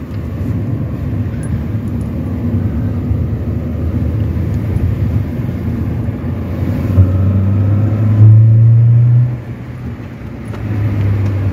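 A Mini car driving on the road produces a steady, loud engine drone heard from inside, swelling briefly toward the end before settling again; no one speaks.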